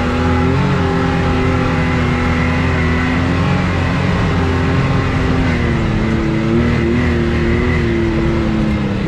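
A trail motorcycle accelerates along a muddy, eroded trail in the Serra da Cantareira hills. The engine drones loud and close, its pitch rising and wavering slightly as it revs steadily for several seconds, with no talk.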